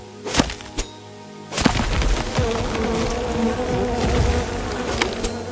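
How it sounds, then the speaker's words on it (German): Bees buzz loudly and continuously in the survival video game Len's Island, after a couple of sharp whacks at the start, the droning swarm filling the rest. "Dass ich immer die Bienen stören muss."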